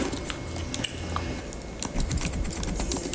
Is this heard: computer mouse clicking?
yes